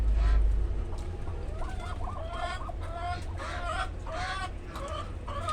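Chickens clucking at a fighting-cock breeder's yard where they are fed cabbage, with several overlapping clucks and calls close by and low rumbling wind or handling noise underneath.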